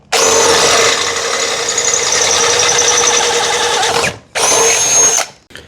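A power drill bores a pilot hole for a bracket bolt in metal, its loud high whine running steadily for about four seconds, then stopping briefly and starting again for another second.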